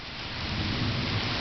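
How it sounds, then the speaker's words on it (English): A thunderstorm on a hot June day in Knoxville, Tennessee: heavy rain hisses steadily close by while a low thunder rumble swells underneath, loud and continuous with no talking. "Thunderstorm in Knoxville, Tennessee on a hot June day."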